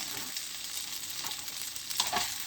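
Chow mein noodles being stirred and tossed in a frying pan, with a steady close sizzle and soft scraping under it, a brighter clatter near the end.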